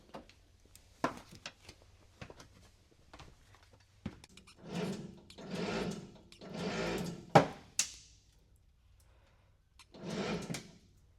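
A damaged Buick car frame clamped on a frame straightening machine gives sharp pops and ticks along with several long, swelling creaks and groans, close by and without talk.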